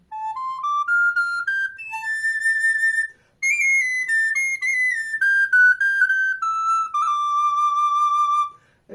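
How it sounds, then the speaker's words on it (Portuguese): The smallest recorder, a hard-wood flute played with fingers close together, plays a bright, pure-toned melody: a rising run of notes, a held high note, then a descending line of sustained tones, solo and clear. "a menorzinha, que é essa aqui, uma flauta que tem que tocar com os dedos muito junto"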